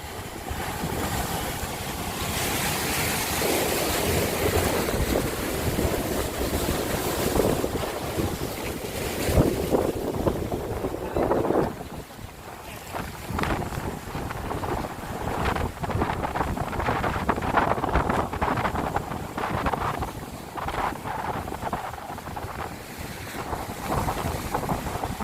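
Sea waves surge and churn under strong wind, a steady loud roar of surf with gusty wind buffeting the microphone throughout, no voices.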